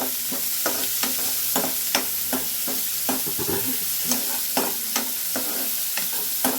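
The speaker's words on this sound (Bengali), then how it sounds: "পেঁয়াজটা হালকা নাড়াচাড়া করে নেব।" Sliced onions fry in hot oil in a pan with cabbage, a steady soft sizzle broken by regular scraping clicks of a spatula stirring, close and without talk.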